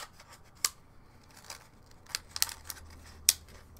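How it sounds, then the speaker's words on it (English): Plastic or paper crinkles while paint is cleaned off an improvised paint cup during dot-art painting, heard as scattered sharp crackles and snaps close by, with quiet gaps between them. "Sorry for the crinkles."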